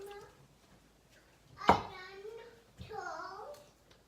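Baby babbling just after waking, two short vocal bursts with a sharp cry-like onset, close by in a home kitchen during baking.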